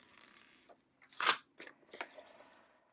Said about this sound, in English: So now I'm going to peel it from the backing